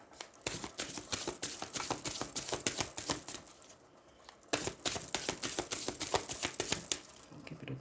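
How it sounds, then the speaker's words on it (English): Tarot and oracle cards from an Organic Elements deck are shuffled from the side, producing a rapid run of crisp riffling snaps with a short pause midway before the shuffling resumes, close and alone. "let's see if I shuffle from the side here"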